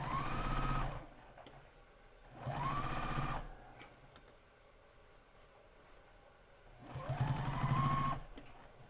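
A sewing machine stitches quilt binding in three separate runs, each rising in speed and then stopping, with quiet pauses between them and no talking.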